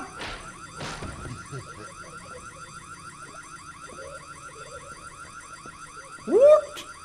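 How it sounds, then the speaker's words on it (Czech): An alarm in the Korean horror video game White Day sounds as a steady, repeating warbling electronic tone that runs throughout at moderate level, broken near the end by a sharp, louder burst. "Alarm."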